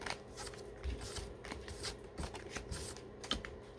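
Tarot cards are shuffled by hand in a quiet room, a repeated run of soft, crisp riffling bursts at a fairly even rhythm, close and alone without talk.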